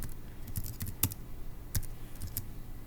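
Keys clack in short irregular bursts on a computer keyboard as a website address is typed, with sharp separate taps and brief pauses between them, close and fairly clear over a quiet background.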